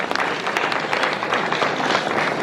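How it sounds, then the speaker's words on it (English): A crowd at a formal event in Abuja claps in a brief, even burst of applause, fairly loud and continuous throughout. "Let's let the applause roll."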